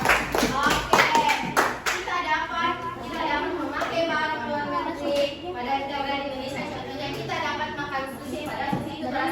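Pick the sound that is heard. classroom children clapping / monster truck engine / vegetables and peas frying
classroom children clapping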